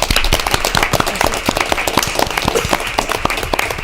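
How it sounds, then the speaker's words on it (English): A board of directors meeting breaks into a round of applause for staff promotions, a room of people clapping briskly with crisp, distinct hand claps close by and no talk over them. "Let me interject and suggest a round of applause for all of our promotions."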